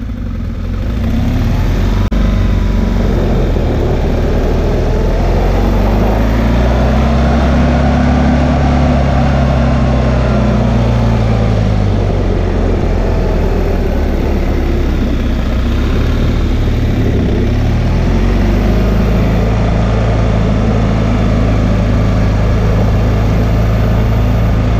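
Motorcycle riding on cruise control at 20 mph, a loud continuous engine drone with a gently rising and falling pitch and wind rush, steady throughout with no talking.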